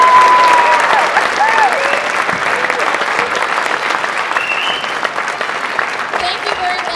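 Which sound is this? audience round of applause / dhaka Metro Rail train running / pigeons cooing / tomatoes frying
audience round of applause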